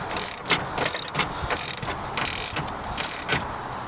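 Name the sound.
ratchet tightening on car window regulator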